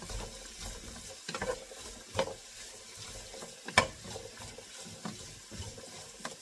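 Rough-chopped peppers frying in a pan as they are stirred, a steady sizzle under occasional utensil clinks and scrapes, close and moderate in level with no talk.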